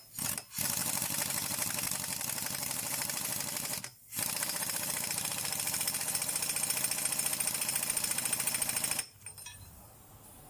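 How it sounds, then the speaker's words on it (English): An impact wrench hammers rapidly in two long bursts, separated by a short gap, while fastening the clutch inner tray on a Kawasaki ZX12R motorcycle during a billet clutch basket conversion, loud and close, then stops. "I use a spanner to lock it, impact."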